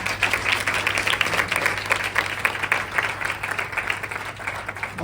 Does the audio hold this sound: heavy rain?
no